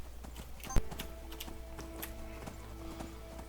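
Horse hooves clip-clop steadily in Skyrim, a regular trotting rhythm that runs throughout at moderate volume, with one sharp knock near the start.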